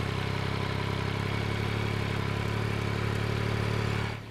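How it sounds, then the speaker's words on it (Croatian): A Yamaha MT-09 Y-AMT motorcycle engine idling right after starting, recorded close to the exhaust, a steady, loud, even drone that holds without a break, then drops away abruptly at the end. "da kažem, blizu izduva kako biste mogli da čujete kako se čuje ovaj motor pri paljenju"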